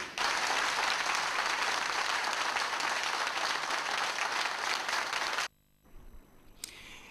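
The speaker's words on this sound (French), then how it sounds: "Alors je vais vous demander de vous lever et d'applaudir le distingué camarade Ali Bongo Ondimba" Applause from a crowd at a political rally, a loud sustained wash of clapping for over five seconds that cuts off abruptly, followed by quieter background noise.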